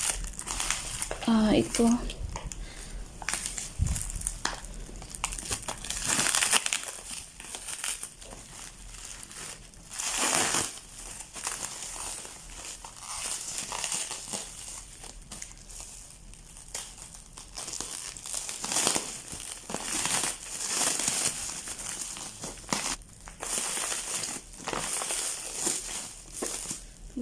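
A heavy bag of cat food for a cat with kidney disease being handled and opened, giving bursts of loud plastic crinkling and crumpling, close by, between stretches of a person talking.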